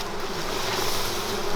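Dense, continuous buzzing of many honeybees at a hive, steady and close, with no other sounds.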